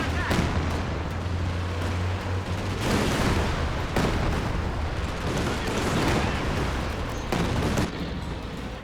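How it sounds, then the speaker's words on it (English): Katyusha rocket barrage in Company of Heroes 2, a rapid run of booming launches and impacts layered over steady battle noise, loud and continuous with sharp bursts throughout. "Goes for a close range Katyusha barrage, but it whiffs"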